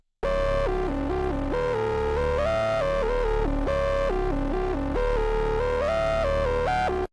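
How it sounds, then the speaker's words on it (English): A simple synth bass built in Serum 2 from a detuned saw wave plays a buzzy, sustained stepwise riff, loud and alone, repeating the same short phrase twice. "let's just open another Serum 2 and make a simple bass"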